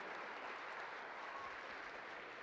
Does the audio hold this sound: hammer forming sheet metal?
no